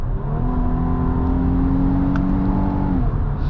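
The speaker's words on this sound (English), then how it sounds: "we are now out on the road in the 2025 Infiniti QX80" A 2025 Infiniti QX80 Autograph luxury SUV cruises along the road, its steady engine drone and low road hum continuous and close, with a faint rising note near the end.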